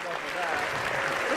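A brief round of applause breaking in during a sports talk show, dense steady clapping mixed with talking voices.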